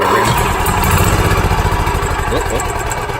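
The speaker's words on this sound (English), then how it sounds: "Seems to run like a charm." An Onan 4000 generator engine runs steadily up close, a loud, continuous mechanical drone with a fast, even pulsing throughout, with no talk over it.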